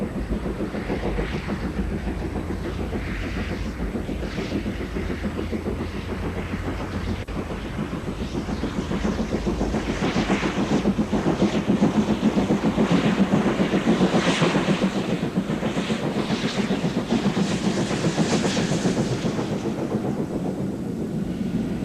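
A Great Western Railway express steam locomotive runs on a British Rail intercity special from Didcot to Stratford-upon-Avon, a rolling train rumble with rhythmic clatter and puffing that swells louder mid-way, then eases slightly.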